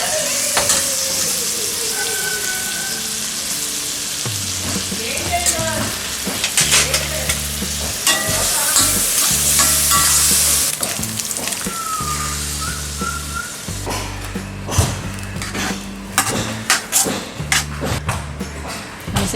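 Mashed potatoes fry with tomato and onion in a pan for ragda chaat, a constant close sizzle broken by repeated scraping and stirring strokes and a few knocks of a spoon.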